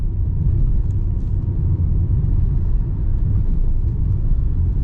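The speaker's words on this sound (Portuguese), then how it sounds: "Quero falar agora sobre suspensão para vocês. Estamos numa rua bem esburacada, ó. Vamos conferir como que é." A Fiat Mobi Trekking 2026 drives over a badly potholed street, giving a steady, loud low rumble of road and suspension noise throughout with no one talking.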